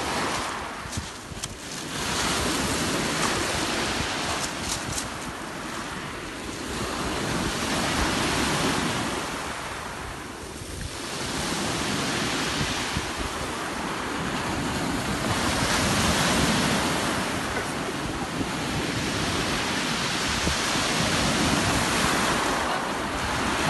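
Sea waves break on the shore at Sochi in late December. The roar surges and recedes in slow, repeating swells, loud and close, with wind rumbling against the microphone throughout.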